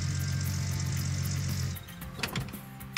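In the Gold Rush game, a truck engine drones steadily at idle, then shuts off after about two seconds, leaving scattered clunks and mechanical knocks.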